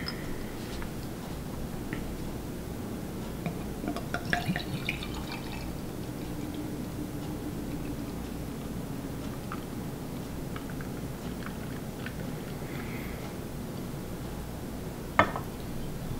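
Schlafly Pumpkin Ale beer poured out, giving faint, quiet liquid trickling and dripping over a low steady background hum, with a few brief splashy bursts and no talking.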